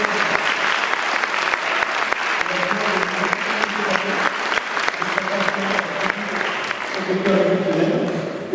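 An audience claps for a singer at an evening concert, sustained dense applause close by, with a voice speaking over it near the end.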